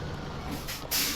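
Truck air brake in the SnowRunner video game, a low engine rumble followed by a sudden sharp hiss of released air at the end.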